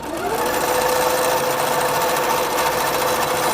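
A sewing machine runs steadily and close, stitching satin binding down the middle onto a baby blanket, a continuous even motor hum with a rapid needle whir lasting throughout, with no voices.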